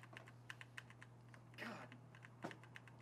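Rapid keystrokes tap on a keyboard in quick irregular bursts, close but quiet, over a steady low hum.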